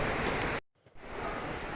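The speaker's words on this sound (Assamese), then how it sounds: "এতিয়া বৰষুণ যথেষ্ট ডাঙৰ দিছে।" Heavy monsoon rain in Assam roars as a dense, steady hiss of drops on surfaces, briefly cut off for a moment before resuming at full strength.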